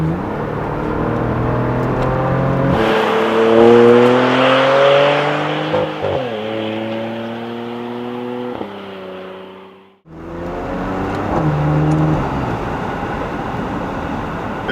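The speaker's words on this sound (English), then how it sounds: "It sort of sounds a little bit like a V6 version of an AMG V8" A 2015 Porsche Macan Turbo V6 engine revs hard and accelerates through several gears, with clear shifts and a brief drop before the engine pulls again, loud and close.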